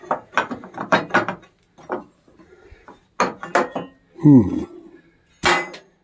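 A log-rolling mechanism at a sawmill clatters through bursts of ratcheting and gear clicks with wooden knocks, and a short metallic clink sounds between the bursts. The sound is close and intermittent, with brief pauses.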